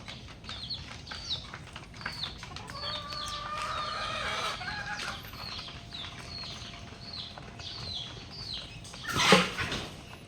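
Backyard chickens cluck in a steady, busy chorus, with a rooster crowing among them and a brief flurry of wing flapping near the end, all fairly close with no talk.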